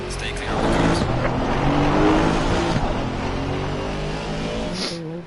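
GT race cars in the racing game Assetto Corsa Competizione drone and roar as they pass around the track. Engine notes rise and fall continuously under someone talking.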